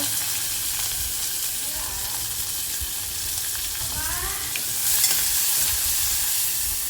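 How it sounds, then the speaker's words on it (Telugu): Onion fries in hot oil with dried red chillies, garlic and curry leaves, giving a steady close sizzle with stirring scrapes that swell louder near the end. "చూడండి కొంచెము వేగాలండి"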